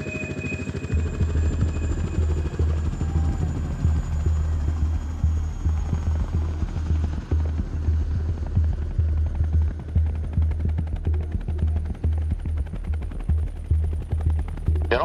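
A Cyclone helicopter flies out for winch training over a fishing trawler, its rotor thudding in a steady, loud, continuous throb with no talk over it.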